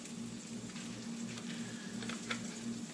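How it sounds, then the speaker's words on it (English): Bison tongue meat warms in a skillet over medium heat, giving a faint, steady sizzle with a low hum running underneath and no talk. "I've got it heating up over a skillet on medium just to warm it up a little bit"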